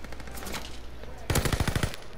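Bursts of Marco 5 submachine gun fire in a video game with fire-damage rounds: a rapid, loud string of shots in the second half, over a busy game background.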